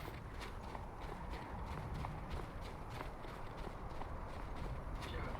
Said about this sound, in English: The goats flee.